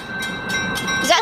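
Skunk heritage train at Fort Bragg rumbles past nearby, steady rail noise with a sustained horn-like tone and rhythmic clatter, a voice briefly audible at the end.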